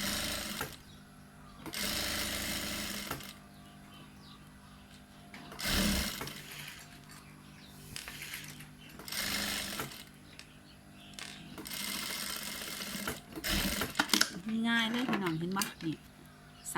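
Sewing machine stitching the hem of a sarong, heard in several short bursts of rapid mechanical whirring that alternate with a voice talking between runs.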